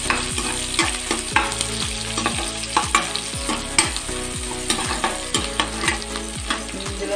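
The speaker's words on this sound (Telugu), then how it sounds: "ఒక పచ్చిమిరపకాయ, ఒక ఆనియన్ ఇది బాగా వేగే వరకు వేయించుకోవాలి." Green chilli and onion frying in a pan, a steady sizzle with regular stirring scrapes about every half second, close and clear with no talking.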